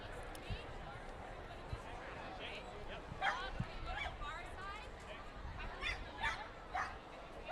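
Wiener dogs yip and bark in short bursts before a race at Fort Erie, a busy crowd murmur underneath and people talking around them.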